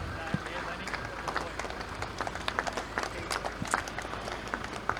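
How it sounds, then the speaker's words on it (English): A crowd at a Riverina AFL Lions reunion ground cheers and claps for a returning 1944 Richmond Cup team player, a spread-out, moderately distant applause with scattered sharp claps and a voice talking over it. "Please give him a warm cheer as he makes his way around the ground."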